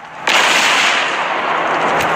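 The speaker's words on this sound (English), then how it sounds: "Look at the fireworks." A fireworks burst cracks sharply and then leaves a loud, sustained crackling hiss, with a second faint pop near the end.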